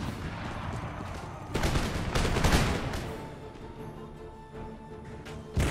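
Mortar and musket volleys crackle through an Empire Total War battle, a dense roll of gunfire with heavier bursts near the start and middle and a sharp crack at the end.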